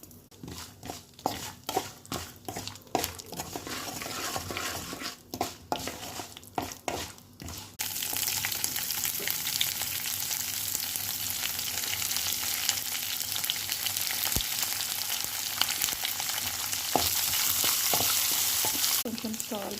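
Peanuts and mustard seeds frying in hot ghee in a pan, a steady loud sizzle that swells after a few seconds of stirring and scraping, continuing alone without talk.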